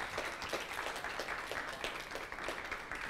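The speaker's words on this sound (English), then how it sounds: "Good applause for our guest speaker of today" A lecture audience claps for a guest speaker, a steady patter of hands at moderate distance, fairly soft and continuous for the whole stretch without voices.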